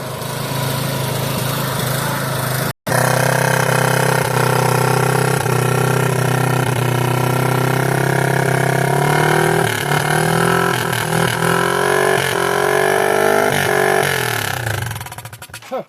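The engine of a 1986 Yamaha YFM Moto4 200 ATV runs loud and close, its revs climbing and falling on their own with a rising, wavering pitch, cut by one brief dropout.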